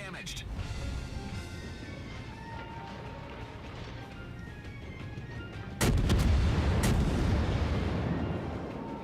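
Naval guns firing in World of Warships, a heavy booming salvo that hits suddenly midway and rolls on loudly, over a continuous game rumble with someone talking throughout.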